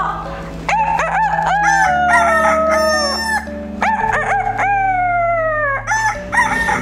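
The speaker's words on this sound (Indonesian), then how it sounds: "terdengar sang ayam jago kembali berkokok" A rooster crows loud and close, twice in succession, each call a long rising-then-falling cock-a-doodle-doo with other fowl noises faintly beneath.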